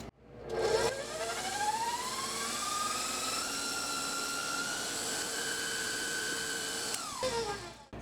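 An electric mixer whips keto cookie batter of vanilla, egg and dry ingredients, its motor whine rising in pitch as it spins up, holding a steady, fairly quiet drone for about six seconds, then winding down.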